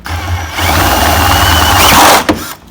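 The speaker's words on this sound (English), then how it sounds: "and now we're going to drill the hole" A 1/2-inch drill bores a hole up through the metal bed frame of a converted Jetta Mk4 ute, a loud close whining grind that runs steadily for about two seconds before breaking through and stopping.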